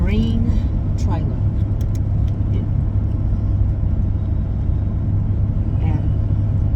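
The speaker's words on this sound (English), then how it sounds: "now we're on the way to Lavell's to get the green trailer." A car driving along a road on the way to town with a trailer errand, giving a steady low engine and road rumble throughout, with a person talking over it at times.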